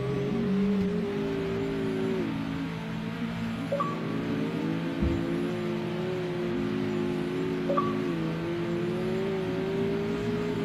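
A Mazda Miata drift car in the CarX Drift Racing video game drones with a steady, wavering engine note that rises and falls with the throttle, alone and continuous.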